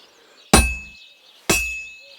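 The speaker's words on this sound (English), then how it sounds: "When I hammer a piece to a beat, the work goes by easier." Two loud metallic hammer strikes hit a sword blade on an anvil in the Kingdom Come Deliverance 2 game, spaced about a second apart, each ringing out with a bright, decaying tone.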